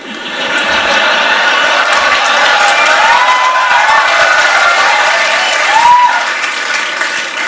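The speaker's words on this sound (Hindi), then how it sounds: "भाई तुम जितनी मर्जी ताली बजा लो" Seminar audience applauding and cheering, a dense steady wash of clapping with shouts and whoops rising through it, loud and sustained from start to finish.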